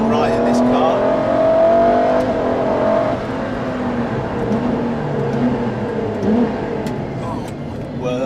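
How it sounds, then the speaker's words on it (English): A Ferrari LaFerrari's V12 engine drones steadily and loudly from behind the cabin while driving, with a smooth sustained hum and slight swells in pitch, under someone talking. "noise from the V12 engine going on behind me."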